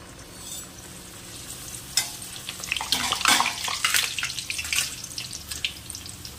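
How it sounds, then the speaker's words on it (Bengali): Chickpea-flour dal puris sizzle as they drop into hot oil in a kadai, a quiet bubbling that swells into a loud, crackling fry before settling into steady spattering. "দুটো করে ভাজবো"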